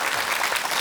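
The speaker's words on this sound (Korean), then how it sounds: "감사 인사 박수를 전하겠습니다" Steady, dense applause from a studio audience on a Korean morning talk show, loud and close, sustained without a break through the short moment.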